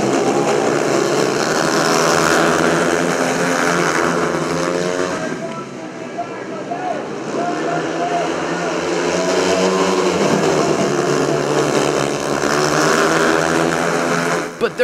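Speedway motorcycles roar around the track during a main-event race at the 2022 AMA National Speedway Championship, a continuous, loud engine drone that swells and fades as the bikes pass, with commentary over it.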